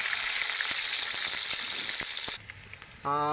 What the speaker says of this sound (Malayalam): ഇനി ഇഞ്ചിയും വെളുത്തുള്ളിയും ചതച്ചത് ഇടുകയാണ്.